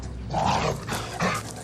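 A trained dog growling while biting during a staged attack stunt on a film set, three short snarling bursts at close range with no speech over them.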